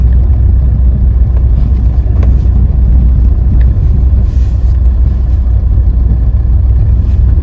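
A car driving over dry, rain-free ground in a village where animals come to drink, giving a steady, loud low rumble of engine and tyres that continues throughout with no talking.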